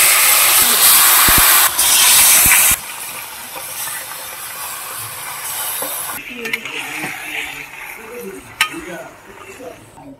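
Meat hits hot oil seasoned with bay leaf, cloves and cardamom, giving a loud, close sizzling hiss that settles to a quieter crackle with occasional stirring clatters.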